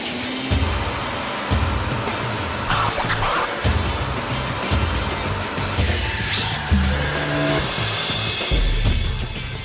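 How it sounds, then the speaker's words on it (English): A Ford Mustang's engine runs steadily on a rolling road dynamometer inside a factory, a continuous low mechanical drone with a broad hiss layered over it and no talk. "Then they drive the car onto what they call the rolling road"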